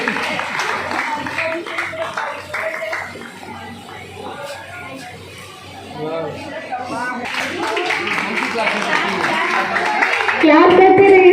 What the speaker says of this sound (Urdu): کلاپ کرتے رہیے سب لوگ، کلاپنگ کرتے رہیے